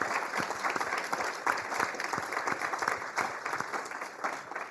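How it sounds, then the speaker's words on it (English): Audience applause after a keynote at a startup initiative launch event, a steady crowd clapping heard from some distance, fairly faint and continuous with no talking. "Let's give another round of applause for Paul for the great keynote"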